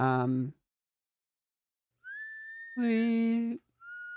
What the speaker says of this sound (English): I like the whistling.